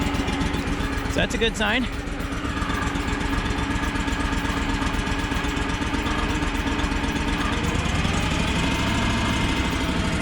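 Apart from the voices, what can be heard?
small engine idling after choke pushed in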